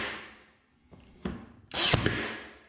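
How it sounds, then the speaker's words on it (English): A brad nailer drives nails through baseboard trim into a wall, with a few sharp, close pneumatic snaps and knocks in quick succession, the last followed by a brief hissing burst. "I take the piece inside and nail it to the wall, aiming the brad nailer at an angle toward the bottom plate in the wall frame"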